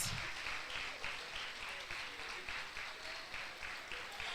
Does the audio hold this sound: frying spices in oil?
no